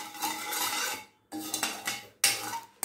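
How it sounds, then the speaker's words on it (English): A spoon stirs sugar and water in a pan for badam burfi, making three close, scraping strokes of metal against the pan, each cut off by a brief pause. "keep stirring it continuously till you get one string consistency"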